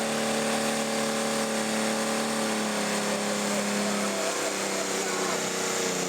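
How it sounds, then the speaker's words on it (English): A tractor at a Eurocup tractor-pulling final revs hard, with a high, steady engine whine that drops slightly in pitch as it strains to drag the sledge. It sounds distant under a loud announcer's commentary and crowd noise. "Lots of revs there to get that sledge moving."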